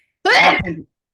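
One short, loud, close sneeze bursts out abruptly and stops within about half a second, followed by silence.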